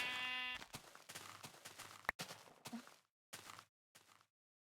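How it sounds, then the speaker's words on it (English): A short sheep bleat in Minecraft opens the sequence, followed by faint, scattered in-game tapping and rustling that stops and starts before going silent. "the sounds, like the sheep, like baa, hasn't really changed"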